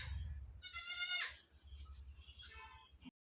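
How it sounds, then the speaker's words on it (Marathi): Newborn goat kids bleat in a few quavering cries, fairly faint, against a low rumbling background, with no talk. "जशी शेळी ओरडते का नाही तशी पिल्लं ओरडतात बघा."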